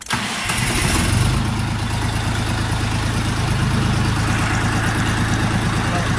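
A Dongfeng DF 244 G2 mini tractor's small diesel engine cranks briefly, catches, and settles into a steady, loud idle that chugs on without a break.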